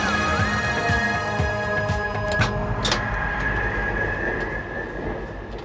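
A 40-ton railway carriage rolls through a railway yard in North London, pushed by a shunting engine, with a steady low rumble, metallic clanks and a sustained wheel squeal.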